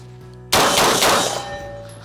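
A loud burst of rapid carbine gunshots breaks out after a quiet half-second, the blasts running together for about a second before fading.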